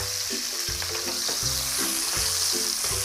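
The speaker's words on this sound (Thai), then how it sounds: "ใส่ในสองตัวไส้กรอกลงไปค่ะ แล้วก็ผัดนะคะ ให้คลุกเคล้ากับกระเทียมเลยนะคะ" Sausage and crushed garlic are stir-fried in a pan for a Thai-style dried-chili pasta, with a constant bright sizzle and rhythmic scraping of the spatula about twice per second, close and clear.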